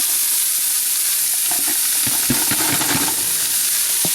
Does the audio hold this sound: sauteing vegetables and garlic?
yes